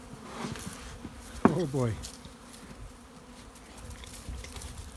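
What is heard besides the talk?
honeybees buzzing around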